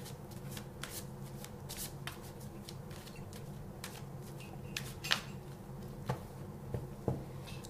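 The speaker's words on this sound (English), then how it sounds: "I'm going to be drawn to the Archangel Gabriel cards." Archangel Gabriel oracle cards shuffled by hand, a steady run of quick papery riffles and flicks over several seconds, soft and close, with no one speaking.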